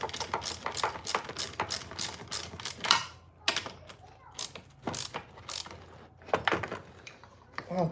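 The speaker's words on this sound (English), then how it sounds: "first let me find a wrench and the right size socket" Socket wrench ratcheting close by in a series of quick, irregular clicking bursts with short pauses between them, and no talk over it.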